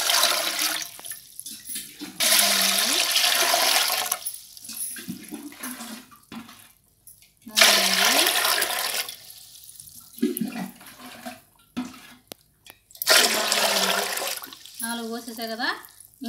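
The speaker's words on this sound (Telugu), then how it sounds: "ఇప్పుడు నేను పోసేసుకుంటున్నా" Water from a container is poured into a pot in several loud gushing bursts, each splashing for a second or two and then stopping. Someone talks in the quieter gaps between pours.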